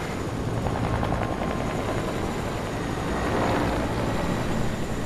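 A helicopter in the video game Fortnite gives a steady, rumbling rotor drone with a rapid chopping flutter, close and fairly loud, continuing throughout with no talk.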